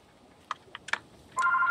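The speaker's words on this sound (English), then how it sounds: "And the phone rang just as I set off the bear traps." A telephone in the room starts ringing with a steady electronic double tone after a few short clicks and taps, close and clear over a quiet background.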